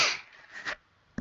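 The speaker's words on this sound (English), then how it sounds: "Sudden sneeze." A single sudden sneeze from a person with a cold, a sharp loud burst at the start that trails off, followed by a brief sniff and a soft thump near the end.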